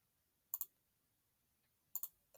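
Two quick double clicks of a computer mouse, about a second and a half apart, crisp and close against a near-silent room.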